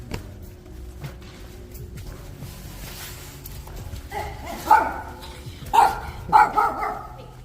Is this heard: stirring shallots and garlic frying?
no